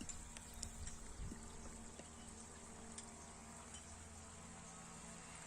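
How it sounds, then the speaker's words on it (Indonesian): Forest spring-fed wilderness stream flowing, a steady broadband rush of water with faint insect buzz and tiny clicks, continuous and fairly quiet throughout. "Ini kondisi dari sumber mata air. Sungai ini merupakan sungai belantara."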